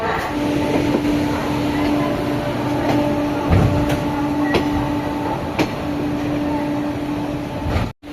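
The Maa Tara Express pulls out of Sealdah station with a continuous rumble of rolling wagons, rhythmic clicks from the rails and a steady hum, loud and close throughout.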